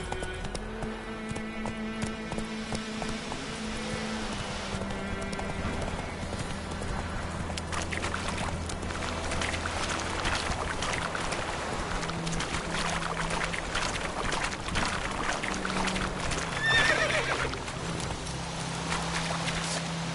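Roach the horse gallops in The Witcher 3, with rhythmic hoofbeats clip-clopping steadily throughout alongside a busy layer of game music and ambient noise; no distinct neigh stands out.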